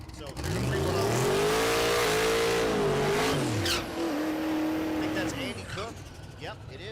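At a drag strip, a Pontiac GTO and a Duramax Chevelle launch with a loud, close engine roar that climbs in pitch through the gears, then fades as they pull away, with an announcer talking over the noise.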